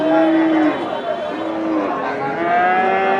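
A Sahiwal bull moos at a cattle market in Domar, Nilphamari. Loud, close, drawn-out lows come one after another over a murmur of crowd chatter.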